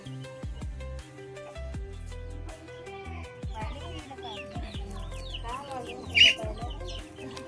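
Village desi hens foraging in a small drain behind a house cluck repeatedly at close range over a musical backing, with one sharper call near the end.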